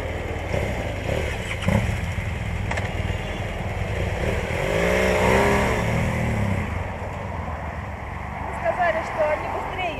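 Cars driven by Chinese travelers roll past on a road, a steady engine and tyre roar swelling as one passes close, heard from inside a moving vehicle with people talking over it.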